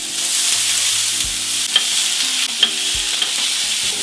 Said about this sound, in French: la poêle est chaude, la graisse on égalise, hamburger ici et on smash.